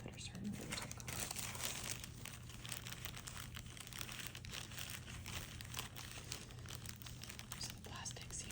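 Crinkling of plastic seed packets handled up close while organizing garden seeds, a continuous crisp rustle with scattered sharp crackles and soft whispering underneath.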